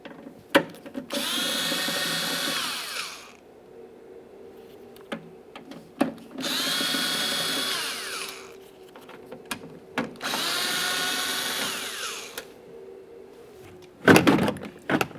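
A power driver whirs in three sustained bursts of a few seconds each, removing T25 screws from a 2011-2021 Jeep Grand Cherokee door latch, with short clicks and handling knocks between them and a sharper clatter at the end.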